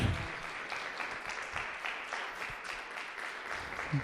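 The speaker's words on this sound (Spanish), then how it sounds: "Dale un aplauso al Señor, hermanos." Church congregation applauding during a Spanish-language worship service, a steady wash of many hands clapping, moderately loud and continuous throughout without talk.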